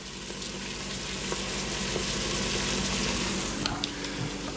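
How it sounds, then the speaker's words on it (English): Onions sauteing in a pan for a pot roast, a steady close sizzle and crackle of frying with a few soft stirring clicks, no talking. "it's been about maybe 4 or 5 minutes that I've been sauteing these onions"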